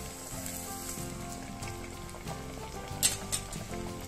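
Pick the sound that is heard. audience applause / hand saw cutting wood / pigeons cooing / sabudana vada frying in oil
sabudana vada frying in oil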